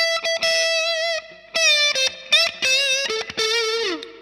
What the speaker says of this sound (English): This is the first time I'm playing the Dark Matter Distortion through my Fender Bass Breaker.